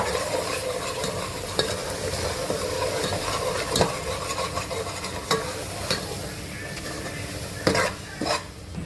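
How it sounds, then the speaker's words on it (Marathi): Masala for Kolhapuri tambda rassa is stirred and roasted in a pan, with a steady sizzle and frying hiss under repeated scraping strokes and occasional clinks of the spoon against the metal. "आता मी हा मसाला टाकते आहे त्यालाही फिरून घ्यायचं आहे"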